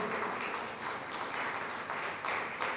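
A church congregation applauds during worship, a steady wash of many hands clapping that swells in waves and sounds somewhat distant and moderately quiet.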